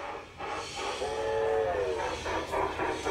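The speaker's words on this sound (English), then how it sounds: "someone has creatively figured out a way to bring the train right out of the building onto the track" A garden-railway model train runs out of a building onto an outdoor track on studio grounds, its whistle sounding for about a second over a steady, rumbling running noise.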